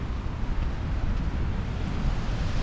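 Sea waves and wind at Mai An beach in Danang, a steady broadband wash of surf mixed with breezy wind buffeting the microphone, continuous and fairly close with no speech.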